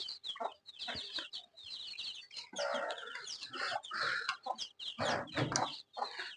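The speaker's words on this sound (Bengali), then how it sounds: "আমাদের আরও কিছু মুরগি আছে এই জায়গায়" A small flock of chickens with growing chicks in a shed, clucking and chirping almost continuously, several birds overlapping close by with a few louder squawks.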